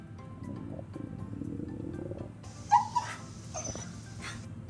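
A dog whimpers and yips in short, high, wavering cries from a played video, a couple of sharper yelps standing out over a low background hum.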